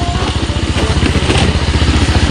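A motorcycle rides along a steep dirt mountain road, its engine a loud, close, steady throbbing drone with rough, rhythmic pulsing and rattling throughout.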